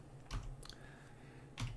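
Quick bursts of keys on a computer keyboard as a folder name is typed, a few close clicks separated by short pauses.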